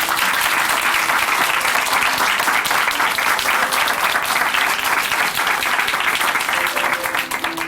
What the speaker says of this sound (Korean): 응원의 박수 보내드릴게요.